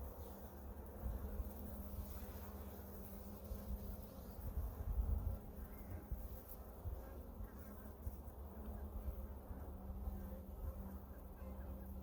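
Honey bees buzz around an open hive during a first hive inspection, a quiet, steady low drone from many insects, swelling slightly near the middle, with faint handling noise underneath.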